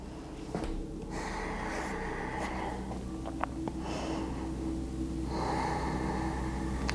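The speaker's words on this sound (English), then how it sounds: "We're just going to breathe here for 5 more breaths." Slow, steady breaths drawn in and let out while holding a half triangle pose during a gentle hip-focused yoga class, audible as a couple of long airy inhales and exhales over a constant low room hum, with no talking.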